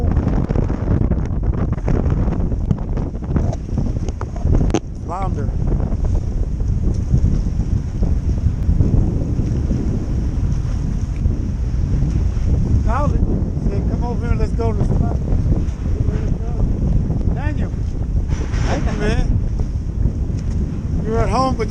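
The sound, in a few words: wind blowing on a fishing boat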